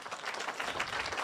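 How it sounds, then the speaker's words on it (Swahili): A short burst of audience applause at a political address to residents of Nakuru, steady dense clapping heard from some distance, fairly faint, with no talk over it. "Pigia makofi tena."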